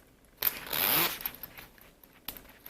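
The zipper of an inexpensive fabric Daiso passport pouch is pulled open in one smooth, close raspy run, followed by faint handling rustles and a brief second rasp.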